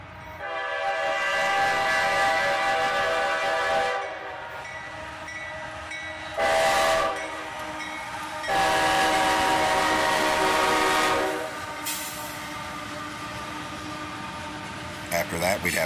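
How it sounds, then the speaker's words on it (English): A freight train led by a Norfolk Southern locomotive, trailed by two Canadian Pacific units, rumbles past loud and close while its horn sounds in several long blasts. "a bit of foreign power here with the Norfolk Southern unit leading, followed by two Canadian Pacific units"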